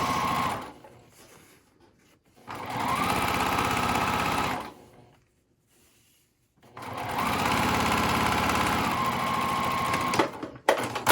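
A sewing machine stitches the folded-over edge of a fabric pie carrier in two fast whirring bursts, each several seconds long, split by a quiet pause, close and clear.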